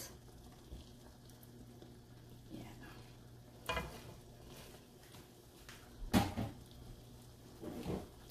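Ginataang langka with pork simmering in a pot, a faint bubbling and low sizzle with soft clatter of utensils and a couple of sharper knocks against the pot.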